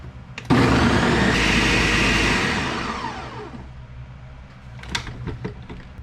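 A blender whirs loudly, its pitch sweeping down as it winds off, followed by a few clicks and clatters.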